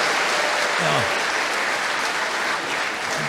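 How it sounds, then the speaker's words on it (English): Loud, full audience applause at a talk, a thick, continuous roar of clapping from a large crowd, with a brief voice showing through underneath. "She deserves the applause, not me"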